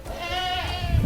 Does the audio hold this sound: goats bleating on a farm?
yes